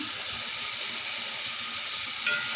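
Mutton fries in a pan with a soft, even sizzle that runs throughout, close but moderate, ending in one brief sharper hiss or clink.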